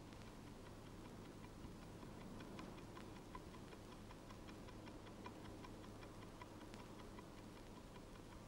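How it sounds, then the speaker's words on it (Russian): A wall clock without glass ticks steadily in a quiet room, each even tick crisp and close, repeating at a regular rhythm over a faint low hum, with no one speaking. "Услышал часы на стенке без стекла. Тикают."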